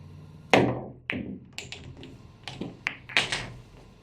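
On a pool table, a cue strikes the cue ball hard with an elevated stroke for a curve shot, followed by sharp clacks of balls colliding and knocking against the cushions, close and crisp in a quiet room.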